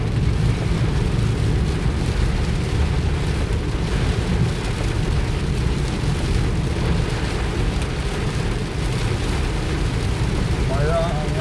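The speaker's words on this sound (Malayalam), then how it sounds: "അടിപൊളി മഴ കേട്ടോ, അടിപൊളി മഴ" Heavy rain pours over a car being driven through a downpour, a dense, loud, unbroken wash of drumming, with a voice faintly present beneath it.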